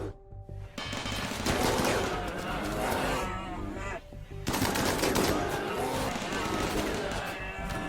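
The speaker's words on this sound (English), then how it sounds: "Just back up as quickly as you can so you don't get shot by the firing line." Gunfire from a firing line in RimWorld crackles in dense, rapid bursts, loud and continuous with brief pauses, alongside low animal-like groans and game noise.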